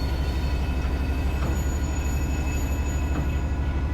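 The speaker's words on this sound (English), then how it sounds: "Is that another train?" A Class 802 train bound for Newquay passes in a train simulator on a rainy line, a steady loud rumble of wheels and engine with faint rhythmic clicks, no talking.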